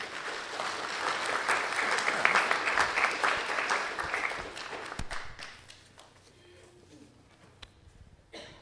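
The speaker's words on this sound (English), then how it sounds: "Let's give her one more round of applause." A church congregation applauds at an Easter worship service, dense steady clapping for about five seconds before it thins out to scattered claps and a quieter room.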